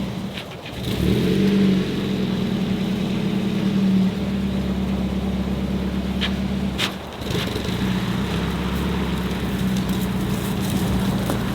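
A race car pulling up a driveway, its engine running steadily close by with a sustained mid-pitched tone, a rise in revs early on and a brief dip partway through.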